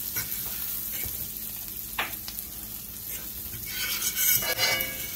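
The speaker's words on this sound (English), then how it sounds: "I'm going to go ahead and add in a little garlic, just to give it a little bit of taste" Garlic frying alongside bacon in a pan, a steady close sizzle with a few stirring scrapes and brief utensil clinks over the crackle.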